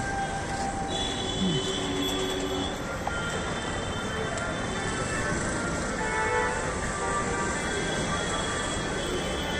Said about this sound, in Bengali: আবার এসে গেছি শোভাবাজার মেট্রো স্টেশনের সামনে